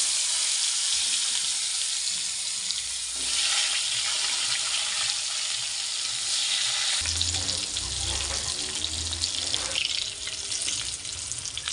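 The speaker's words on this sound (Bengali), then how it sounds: "এই তেলে আমি জিরে, কালো জিরে সম্বার দিয়ে দেবো, কালো জিরার তেজপাতা, এর মধ্যে আলু বেগুনগুলোকে ভেজে নেব।" Potatoes and eggplant frying in oil with cumin, black cumin and bay leaf produce a loud, continuous close sizzle that turns harsher and more crackling partway through.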